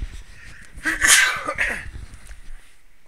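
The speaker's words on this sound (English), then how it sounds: "Oh, I have to sneeze." One sharp, close sneeze bursts out in the middle, with a quick breath before it, from someone narrating a strategy game; quiet background before and after.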